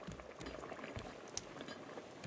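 Pot boiling on a raft in a video game: steady bubbling, burbling texture with soft pops, moderately loud and continuous throughout.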